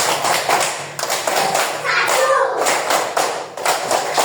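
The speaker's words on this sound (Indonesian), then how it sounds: "Ibu kasih tepuk tangan 5, 2 kali" Children in a first-grade classroom clap hands together in a patterned count, a busy burst of taps and claps with a teacher's voice and kids' speech mixed in throughout.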